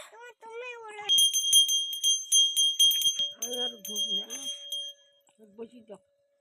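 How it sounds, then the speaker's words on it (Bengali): A small puja bell rings in a rapid, bright jingle for several seconds close by. People talk around and over it, and a sustained tone joins partway through. "ঘন্টা বাজাও, একটু ঘন্টা বাজাও"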